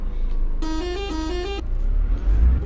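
A single steady horn blast from an Isuzu NPR truck in Euro Truck Simulator 2 sounds for about one second, loud and tonal, over a low engine rumble.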